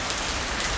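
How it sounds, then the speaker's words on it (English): Heavy rain falls in Singapore as a brief, even broadband hiss of drops hitting surfaces, steady and moderately loud. "it is raining heaven in Singapore"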